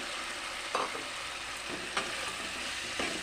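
Beans sauté in a pan with Kashmiri chili: a quiet, steady frying sizzle broken by a few soft stirring scrapes and taps, with no voices.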